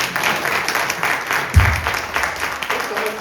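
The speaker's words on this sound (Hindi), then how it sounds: "तब तक जोरदार अपने लिए तालियां बजा सकते हैं।" A crowd at an awareness program in Baroda bursts into vigorous applause for themselves, a dense, continuous clatter of hands with a presenter's voice faintly under it.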